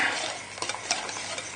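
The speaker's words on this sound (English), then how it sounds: "I'm just going to add just a little splash of milk. And give it a really good whisk" Pancake batter with a splash of milk being whisked in a bowl, a steady soft scraping and stirring texture with a few clinks, close and moderately quiet, with no talking.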